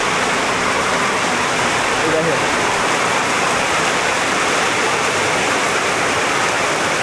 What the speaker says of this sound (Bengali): আকাশ ভেঙে বৃষ্টি নামতেছে এখন।